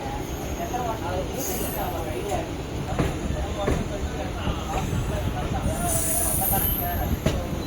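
A vintage-style MEMU local passenger train on the Nellore route rolls past nearby with steady rumble, clacking wheel beats and occasional high squeals, while people talk over it.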